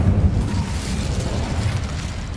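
Incendio fire spell cast in Hogwarts Legacy, a dense roaring whoosh of flame with a low rumble that holds steady and loud for a couple of seconds.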